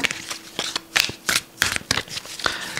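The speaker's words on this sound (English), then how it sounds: "Let's just give them a good shuffle firstly." A deck of tarot cards is shuffled by hand in a quick, irregular series of crisp riffling bursts and soft slaps, close and clear with no talking.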